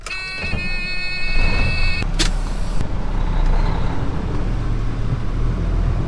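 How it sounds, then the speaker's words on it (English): A farm truck is driven nearby with a steady engine drone and rolling road rumble, a brief high whine at the start fading into constant vehicle noise. "I'm just gonna move this truck over so it's all close together."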